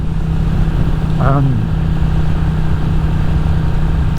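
Royal Enfield Classic 350 motorcycle engine running steadily while ridden, a loud, constant low drone with wind rumble, and a voice briefly talking over it.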